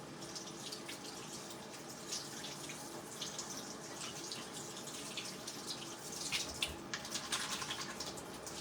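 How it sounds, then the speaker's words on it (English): Water runs steadily from a kitchen tap while hands are washed, a continuous close splashing hiss with small shifts in the stream, slightly louder splashes toward the end, no talking. "let me wash my hands again"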